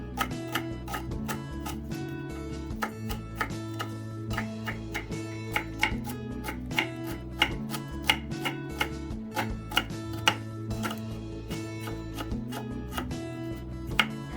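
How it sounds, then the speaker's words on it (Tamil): Peeled ginger being finely chopped with a knife on a board, a rapid run of crisp, close taps in an even rhythm that continues without pause and without talk. "இல்லைனா இப்படி கட் பண்ணிக்கலாம் பொடியாக"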